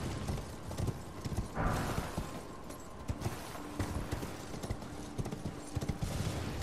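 Horse hooves gallop in Elden Ring, a rapid steady clip-clop running through the whole stretch over a dense game soundscape, with no talk.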